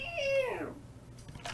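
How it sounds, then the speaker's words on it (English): A cat in a dark alleyway lets out a single eerie, drawn-out meow that slides downward in pitch, loud and close, followed by a brief quieter rustle. "That's a scary ass sounding cat."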